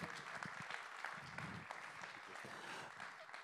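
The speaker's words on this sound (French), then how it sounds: "Je vous demande d'applaudir bien fort Marcio Oliveira" Audience at an award ceremony applauding a prize winner being called to the stage, a dense, steady clatter of clapping hands that fills the room and holds without a break.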